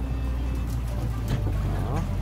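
A river boat pulls in to moor against a canyon wall on the fast-flowing Colorado River in the Grand Canyon, with a steady engine-and-water rumble, thumps and scrapes near the end, and voices talking over it.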